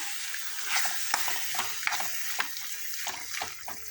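Tamarind juice goes into a simmering banana flower curry and gets stirred, giving a steady soft sizzle with light scraping and small liquid splashes, faint and close, with no talk.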